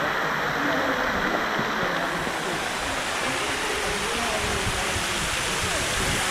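A waterfall pours into a natural swimming cove on a hot day, giving a close, continuous broadband rush of falling water, steady in level throughout.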